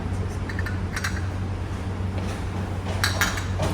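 Lightweight cups and saucers clink together in a shop, giving several light, sharp chinks at irregular intervals over a steady low hum.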